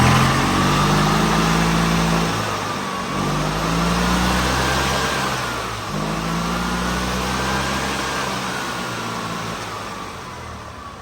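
A gas golf cart engine that won't start cranks over and runs roughly, a loud steady mechanical drone that wavers in pitch and eases slightly toward the end.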